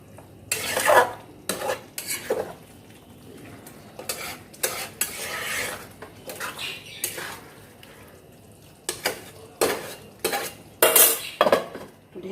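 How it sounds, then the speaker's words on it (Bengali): Spiced curry being stirred in a cooking pot, with a series of loud, close scraping and clinking strokes of a utensil against the metal pot, separated by brief pauses, over a faint background sizzle. "এখন এটা একটু নেড়ে দিই।"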